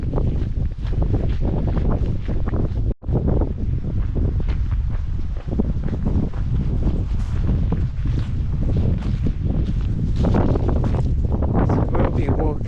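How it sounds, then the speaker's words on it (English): Strong wind buffets the microphone on a coastal walk, a loud continuous roaring rumble that swells and gusts throughout, with only a brief dropout. "So we'll be walking against the wind for most of the day."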